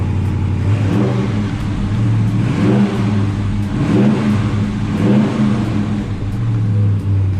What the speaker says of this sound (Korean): 그 머플러 소음이 되게 좋죠.